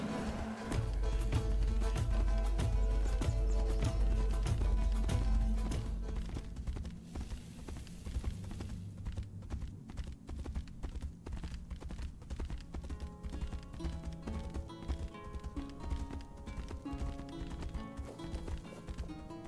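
Rapid rhythmic hoofbeats of a galloping horse over game music in the video game Tainted Grail: Fall of Avalon, loud at first and then fading back beneath the busy score.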